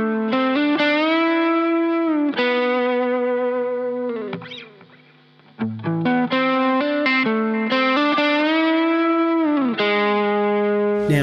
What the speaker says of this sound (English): I also re-recorded my guitar parts through real guitar amps instead of using amp simulators